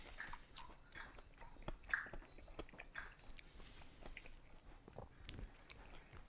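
Smoked Cadillac-cut beef ribs from a pellet smoker being bitten and chewed close up, heard as soft, irregular chewing and small crunchy bites at a low level, with no talking.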